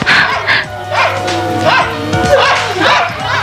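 Several dogs at a large bungalow bark, yip and whine in quick, overlapping bursts. The sound is loud and near, over a constant low background hum.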